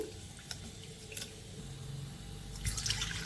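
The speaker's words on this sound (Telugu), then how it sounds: "ఇందులో గ్లాస్ నీళ్ళు వేసేసుకొని నానబెట్టేసుకుందాము" A glass of water poured over tamarind to soak it in a home kitchen: a faint, steady trickle and splash with scattered drips, heard quietly and alone.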